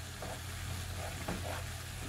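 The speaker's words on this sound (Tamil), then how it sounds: "சீனி பண்ணிக்க ஒரு தேக்கரண்டி பட்டர் போட்டிருக்கிறோம். பட்டர் நல்லா உருவட்டும்." A spoonful of butter melts in a pan for semolina toffee, giving a soft, steady sizzle and gentle crackle with a few faint stirring scrapes, close but low in level.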